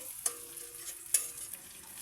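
Potatoes sizzle steadily as they fry in a hot pan while a utensil scrapes and knocks against it twice, quiet and close.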